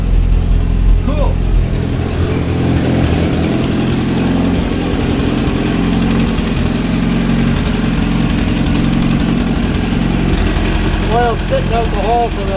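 A 1963 Hillman Super Minx engine idles steadily with a low, even rumble, while people talk nearby over it.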